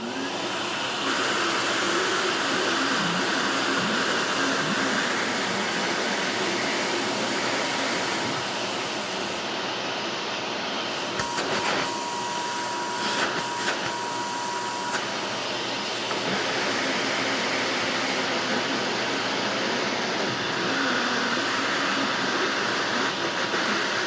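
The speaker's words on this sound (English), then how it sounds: "can I use an Electrolux to vacuum off this filter here?" An Electrolux vacuum cleaner drones loudly and continuously while it sucks dust off a filter, holding a steady roar with a few brief dips in pitch partway through.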